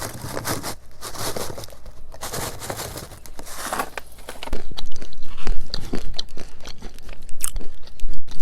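Close, loud crunching and chewing of crisp chili roasted pistachios with crackling shells, continuous and getting louder toward the end, no speech.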